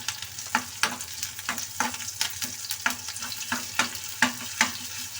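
Onions fry in oil with ginger garlic paste and curry leaves under a steady sizzle, while a spatula scrapes the pan in brisk, regular strokes about every half second, close and clear.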